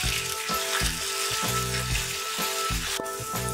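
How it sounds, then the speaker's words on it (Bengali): Bitter gourd, pre-coated with salt and turmeric, fries over medium heat in hot mustard oil with a steady, dense sizzle throughout, broken by a few brief clinks and a rhythmic low thumping beneath. "উচ্ছে বা করলাটা আমি মিডিয়াম ফ্লেমে ভালোভাবে ভেজে তুলে নেব"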